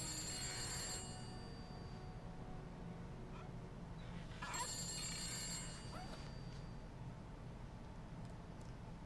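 A telephone rings in The Beast Inside, two bright trilling bursts spaced apart over a quiet hum of room ambience, with faint softer sounds between them.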